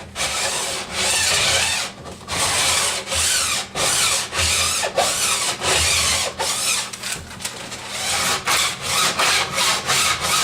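A file scrapes along the steel edge of a snowboard during edge tuning, in repeated loud rasping strokes with brief gaps between passes, close and alone.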